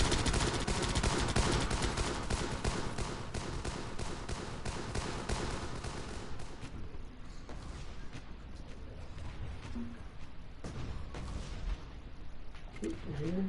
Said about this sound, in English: Feel that mortar coming down? How it all goes in that area?